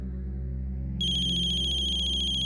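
A steady electronic phone ringtone plays, a high repeating tone that switches on partway through and continues evenly over a low hum.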